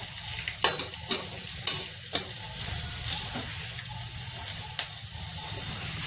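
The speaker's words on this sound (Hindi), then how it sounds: "अब डालेंगे लहसुन, गैस को कर देंगे तेज" Garlic sizzles in a hot pan on a high gas flame, a steady close frying hiss broken by several sharp clinks of stirring.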